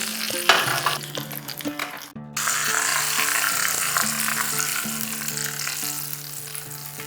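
Whole cumin, black mustard seeds, asafoetida, curry leaves and green and red chillies dropped into hot mustard oil, crackling and sizzling loudly and steadily close up, with a brief break partway through before the sizzle returns fuller.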